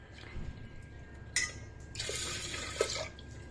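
Water poured into a pot set inside a pressure cooker, heard as a short splash followed by a steady close pour lasting about a second and a half, with a few faint drips and clinks around it.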